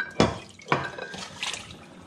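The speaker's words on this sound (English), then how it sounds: "You can use cold water to rinse it." Dishes and cups rinsed under cold tap water at a home kitchen sink: two sharp clinks of dishware knocking together, then softer splashing and trickling water.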